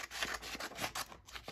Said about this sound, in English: so now I'm just going to quickly trim